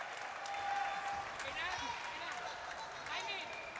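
A crowd at a boxing match, an IBF bantamweight title eliminator, applauds the fighters, a faint, steady patter of clapping heard at a distance beneath an announcer's voice.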